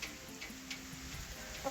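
Backyard chickens cluck softly at a house door, a few low scattered clucks and a faint crow-like note over steady background hum, with a brief louder peep near the end.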